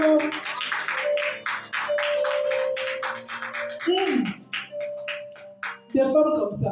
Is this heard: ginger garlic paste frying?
no